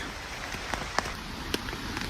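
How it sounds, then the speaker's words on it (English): Light rain falling in a forest, with sparse soft drops pattering on leaves and a nearby hammock over a steady quiet hiss, a few sharper taps standing out. "That's the rain on now."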